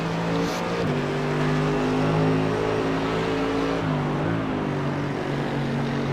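Race cars roar through turn 11 at Mid-Ohio in the iRacing video game, a close, steady engine drone with shifting pitch as the cars pass nearby, loud and continuous without talk.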